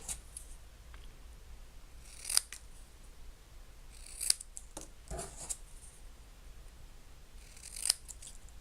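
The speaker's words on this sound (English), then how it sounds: "so just use this scissors and try and cut straight." Scissors trimming card stock, making three crisp, separate snips spaced a couple of seconds apart, quiet and close against a soft background hiss, with no talking.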